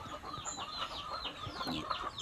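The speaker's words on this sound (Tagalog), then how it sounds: "Dawa diri ang mga manok guys oh." Several chickens clucking and murmuring on a farm, a soft continuous chatter of overlapping short calls at moderate distance with no talk over it.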